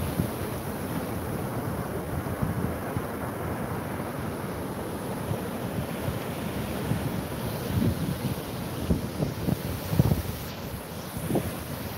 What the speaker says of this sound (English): The waves are strong, the way you see. Very strong.